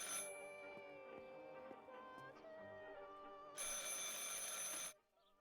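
A telephone rings quietly, a sustained trilling tone in a still room in the game Martha Is Dead, growing briefly louder before cutting off; no one talks.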